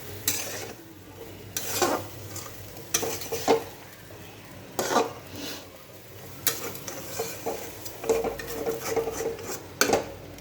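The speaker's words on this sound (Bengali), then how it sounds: "এটাকে আমি আর একটু জল দিয়ে মশলাটার সঙ্গে ভালো করে কষিয়ে" A spoon stirs and scrapes drumstick curry with potatoes, spices and a splash of water in a pan, in irregular bursts of clatter over a soft sizzle.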